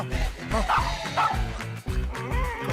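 A dog barks repeatedly and loudly in a comedy film scene, a rapid run of close yapping barks with brief whimpers and background noise throughout.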